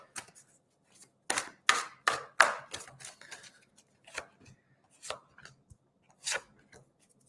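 A run of quick papery riffles and soft slaps, several bursts in an uneven rhythm, close and fairly quiet: tarot cards being shuffled.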